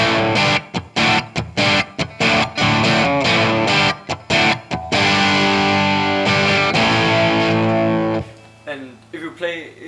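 Loud distorted electric guitar plays an intro riff with palm mutes: choppy, percussive muted chugs give way to sustained ringing chords, then a softer trailing tail near the end.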